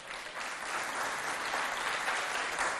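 A crowd at a school event in Mao gives sustained applause for a jury member, a dense, even wash of clapping that holds steady throughout.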